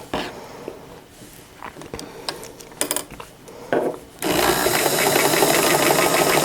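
Sewing machine fitted with a narrow foot stitching stretch lace for a jacket, starting with scattered clicks and handling noises, then breaking into a loud, steady, close-up mechanical whir for the final two seconds.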